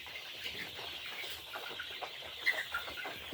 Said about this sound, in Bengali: দেখতে পাচ্ছেন আপনি এখানে কতগুলো মুরগি আছে বাচ্চা আছে